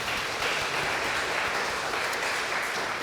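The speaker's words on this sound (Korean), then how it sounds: "박수로 환영하겠습니다." A church congregation claps to welcome guests, a steady and fairly soft wash of applause that lasts throughout with no break.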